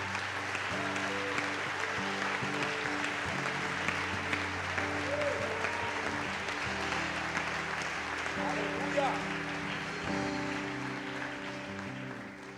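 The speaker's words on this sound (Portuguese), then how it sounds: "Aplauda Jesus pela palavra." A church congregation applauds steadily for about twelve seconds, a broad wash of clapping filling the room while sustained organ or keyboard tones play underneath.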